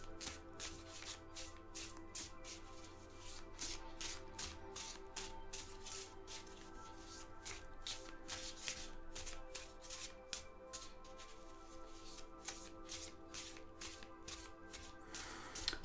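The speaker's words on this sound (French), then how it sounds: "je vais étaler des cartes et puis on verra un petit peu ce qui va sortir" Divination cards being spread out across a table, a faint, steady run of soft slides and rubbing with quick light flicks, close and continuous without talk.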